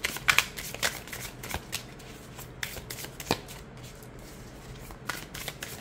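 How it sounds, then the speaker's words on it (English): An oracle card deck shuffled overhand by hand, quick riffling card slaps in bursts with short pauses, close and fairly quiet. "I can get jumpers when I shuffle overhand with this deck"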